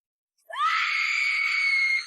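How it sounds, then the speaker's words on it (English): A woman's scream echoes from upstairs, one long sustained high-pitched cry rising sharply and holding for about a second and a half, loud and alone. "Upstairs, I could still hear unhinged scream echoing."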